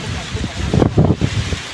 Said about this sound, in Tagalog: Isinaba kami sa malakas na hangin oh.